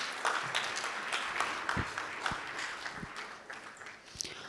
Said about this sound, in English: can we once again welcome him on stage with a round of applause